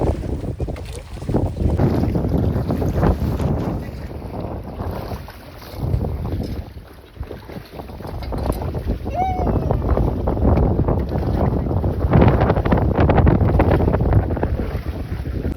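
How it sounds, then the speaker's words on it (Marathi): Wind gusting over Dudhani Lake during an evening boat ride, a broad steady rush buffeting the microphone almost throughout, with people talking and calling out over it. "हवा पण मस्त सुटली आहे"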